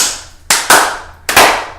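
Two loud, close hand claps, each with a quick double attack, ring out in a quiet room to sync a recording.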